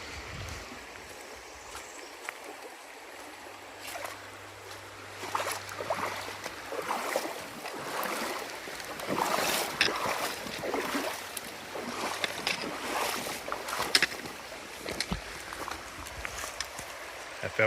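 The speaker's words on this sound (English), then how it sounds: "Looks like we get to do a river crossing." Splashing water as a hiker wades through a river crossing on a forest trail, sloshing footsteps and steady stream flow, moderately close, with no talk.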